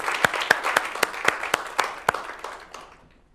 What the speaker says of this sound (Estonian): et võime teha neile suure aplausi.